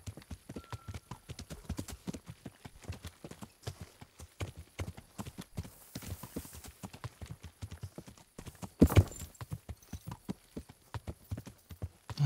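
Horse hooves gallop in the Kingdom Come: Deliverance video game, a steady rapid clip-clop of dense regular beats running the whole stretch, with one louder thump near the end.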